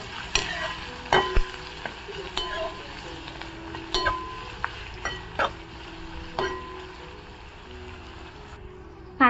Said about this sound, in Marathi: आणि हा बारीक चिरून घेतलेला कांदा घालून घ्यायचा। कांदा छान असा परतून घ्यायचा।